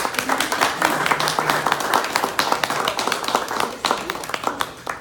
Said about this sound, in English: And just want to give you a great round of applause.